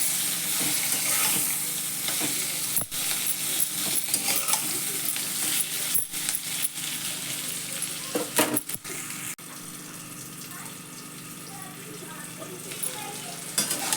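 Green chillies fry in oil in a pan over low flame, giving a steady close sizzle throughout with occasional scraping stirs and clinks of the spatula.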